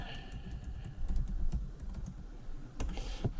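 Keys clacking on a computer keyboard while a password is entered during account setup for a self-hosted monitoring app, a quick run of light, irregular close taps at a quiet level.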